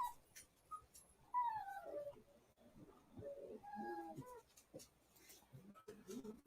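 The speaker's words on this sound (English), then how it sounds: "I apologize for the crazy puppies." Excited puppies whimper and whine in high, wavering cries, several short bursts scattered through the scene at close range, with a voice talking at moments among them.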